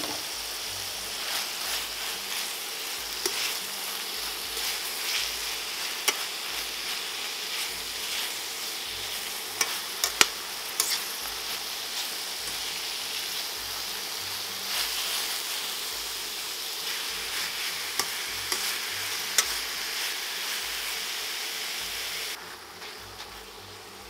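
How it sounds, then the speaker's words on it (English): Grass-fed steak, onion and mushrooms fry in a pan with a steady, close hiss and sizzle broken by scattered small pops, fading slightly at the very end. "Now I'm gonna go ahead and add our onion"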